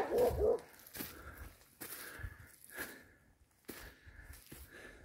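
A hunting dog barks during wild boar hunting training in Ohrid, Macedonia, giving a few separate sharp barks spaced through the short stretch at moderate distance, with quieter breathy sounds between them.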